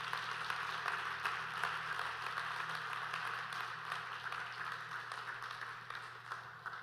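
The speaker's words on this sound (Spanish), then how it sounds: "Vamos a darle un fuerte aplauso al Señor Jesucristo." Church congregation applauding steadily during a worship service, a dense wash of clapping over a low sustained organ or keyboard drone, with no clear voices.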